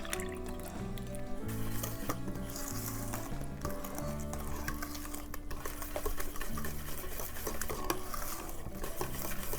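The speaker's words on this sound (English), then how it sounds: "we can put them together and we'll have minimal stirring so we don't make our pancakes tough" Pancake batter is stirred together gently with minimal mixing, producing soft, steady wet swishing and squishing throughout, with tonal background music running underneath.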